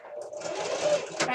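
Sewing machine back stitching along the edge of a fabric microwavable bowl cozy, a steady close motor whir with fast needle rhythm running throughout.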